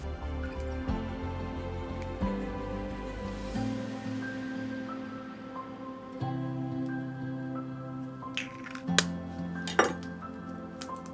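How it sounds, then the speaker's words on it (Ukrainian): Kitchen clinks and taps of eggshell and glassware as three eggs are separated, yolks from whites, for hollandaise on Eggs Benedict, with a low hum beneath, soft knocks, and a couple of sharper chinks near the end. "Потрібно розділити жовток від білка."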